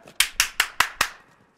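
Five crisp, evenly spaced hand claps ring out at a measured pace, close and moderately loud, fading after the last one, with no talking over them.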